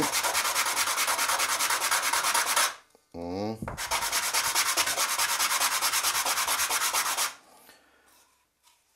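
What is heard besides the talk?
sanding a cut cane tube to remove the burr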